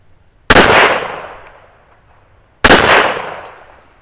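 Two loud, sharp gunshots from a Walther WMP pistol ring out at an outdoor shooting range, about two seconds apart. Each crack decays into a brief echoing tail, with no talking in between.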